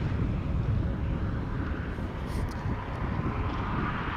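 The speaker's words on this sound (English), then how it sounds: "Right, there we go, Corendon Airlines, Max 9, outbound Edinburgh" A Corendon Airlines Boeing 737 Max 9 departs, its engines giving a steady, dense low roar that holds at constant strength throughout, with faint wind buffeting.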